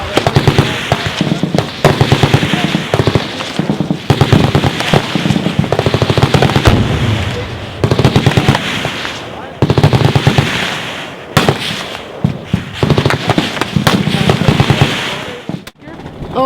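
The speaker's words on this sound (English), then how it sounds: "This is an M1 Garand used in World War II by most of the troops." An M1 Garand, the World War II service rifle, fires at an outdoor shooting event. Loud, dense gunfire comes in rapid back-to-back bursts for the whole stretch, with only a few brief pauses between strings.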